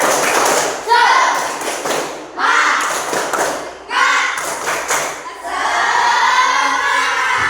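A class of sixth-grade children does a rhythmic spirit clap, chanting in bursts punctuated by loud synchronized thumps and claps, close and lively in a classroom.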